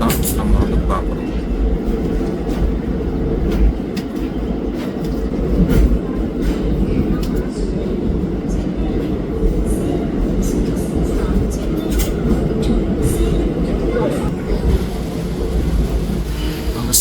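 The Nagercoil–Chennai Central weekly express rolls through a crowded platform at Salem station, a loud, continuous rumble and rattle of carriages that fills the whole stretch.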